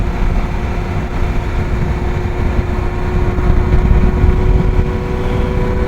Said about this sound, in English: Going up a hill, rough terrain on a motorcycle